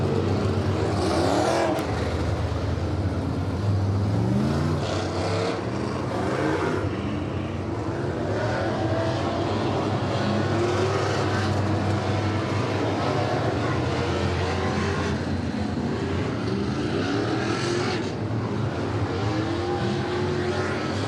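Sport mod race cars circling a dirt track at Maquoketa Speedway: loud continuous engine roar with rising and falling passes as the cars roll around the oval.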